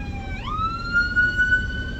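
A fire engine siren passing in traffic, a loud wailing tone that slides upward then holds steady, heard clearly over a low background rumble of road noise.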